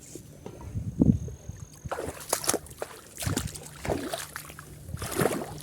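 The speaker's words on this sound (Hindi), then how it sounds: "ये चल रहा है पानी" Irrigation water flowing into a farm field through a hole in the soil, a close sloshing and splashing trickle with uneven gurgling surges and no talking.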